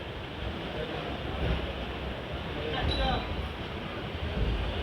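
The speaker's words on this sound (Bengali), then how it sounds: "ট্রেন ছেড়ে বেরোচ্ছে খড়গপুর জংশন" A train pulls out of Kharagpur Junction, its low rolling rumble steady and moderately quiet with a few louder swells, heard from on board.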